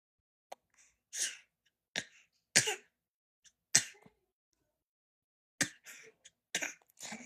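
A young child mimics her sister's coughing with a voice imitation: a series of short, sharp, breathy cough bursts separated by quiet gaps, close and fairly soft.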